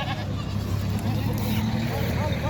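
Goats bleating at a livestock market, with nannies and kids, the calls repeated over a steady crowd murmur and people talking nearby.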